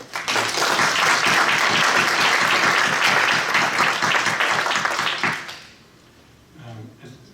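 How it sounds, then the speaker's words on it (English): Audience applauding at an artist roundtable event on journalistic comics, loud, full clapping for about five seconds before fading out, followed by a brief murmur of voices. "Please, round of applause."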